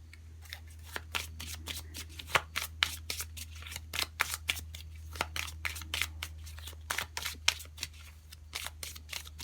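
Oracle cards being shuffled by hand, close and fairly quiet, with rapid irregular flicks and riffling slaps over a low steady hum.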